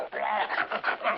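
A dog whimpers and pants in short, breathy, whiny bursts at close range for about a second, with no talking over it.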